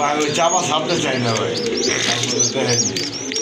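White Danish pigeons coo in low, throaty rolls beneath bright chirping, with people talking steadily over them at close range.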